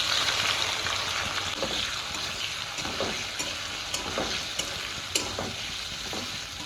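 Onion, capsicum and green chillies sizzle steadily in refined white oil with ginger-garlic paste, a broad continuous hiss broken by occasional scraping stirs of a spatula, close and alone.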